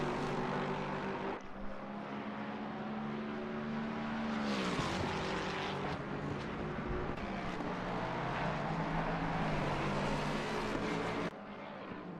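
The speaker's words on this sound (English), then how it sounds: "Beautiful sound that Lexus has to it." A Lexus race car in a sim racing game drones steadily, its engine tone rising and falling through gear changes across a continuous, fairly loud run.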